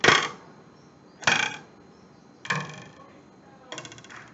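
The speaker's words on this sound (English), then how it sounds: "When I pluck the ruler." Ruler plucked against a table edge, four separate sharp twangs spaced about a second apart, each decaying quickly, the last one softer.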